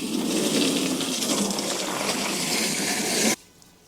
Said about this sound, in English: and now it's time to fill with water.